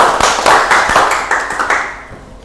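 A classroom of students claps together during a microteaching lesson, a dense burst of close handclaps that thins out and fades over about two seconds.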